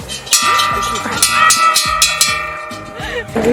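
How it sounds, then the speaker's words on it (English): A bell rung at the finish of an outdoor maze, several bright metallic clangs in an uneven rhythm, close and loud, with people talking over them. "you ring the bell to let everyone know that you've finished the maze."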